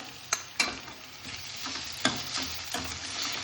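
Ginger, garlic and green chili paste frying in a pan for mushroom and pea curry, with a steady soft sizzle broken by several sharp spoon clacks against the pan as it is stirred, and no talking.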